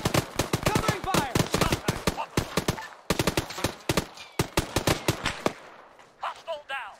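Covering gunfire during a defensive combat operation in Arma on Chernarus, with dense bursts of rifle and machine-gun shots that vary in distance, ending in sparse shots and a couple of shouted voices.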